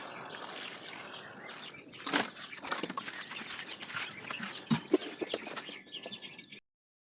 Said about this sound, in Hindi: क्योंकि हमारे यहाँ हो रही है बारिश।